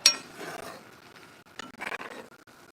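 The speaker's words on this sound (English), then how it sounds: "Give this a little stir around." Noodles stirred in a pot, a sharp metallic clink at the start followed by soft scraping and rubbing of the utensil, quiet and close.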